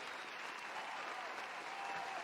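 A studio crowd's applause at a live show event, dense steady clapping that stays even and fairly faint for about two seconds, without any speech over it.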